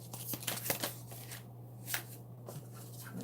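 A deck of tarot cards being shuffled close by in quiet, soft riffling bursts with brief pauses between them, no talking.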